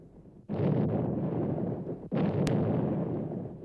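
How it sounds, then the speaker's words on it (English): Two heavy booming blasts, each followed by a long rumbling roar, as naval guns fire broadside salvos in succession at a distance, during WWII fighting near Kronstadt. "answers the German gunfire with broadside salvos"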